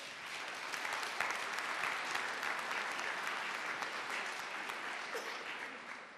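An audience at a 2014 senior summit gives sustained, dense applause that holds steady for about six seconds, a broad wash of clapping with no talk over it.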